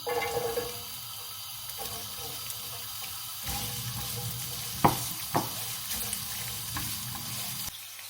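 Carrots go into hot cooking oil for Ilocano igado and sizzle steadily at close range. Two sharper pops rise partway through, and a faint tonal background runs underneath.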